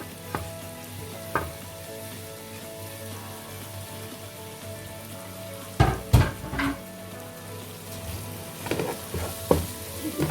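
Red chillies, turmeric and salt added to hot oil for a radish and potato bhujia, giving a steady close sizzle with scattered crackles and a few louder stirring clatters, no talking.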